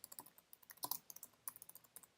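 Quiet, irregular keystrokes on a computer keyboard, a quick run of light clicks with brief pauses, close and alone.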